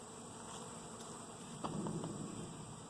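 A low, steady drone of bees buzzing fills the air, with a short louder flurry near the end. The sound is faint.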